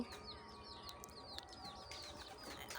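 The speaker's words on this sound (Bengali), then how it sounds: "দেখুন খুব সুন্দর ওই যে চালে বসে আছে পায়রা দুটো" Pigeons perched on a house roof give soft, faint coos and chirps over a quiet outdoor background, with a brief rustle or flutter now and then.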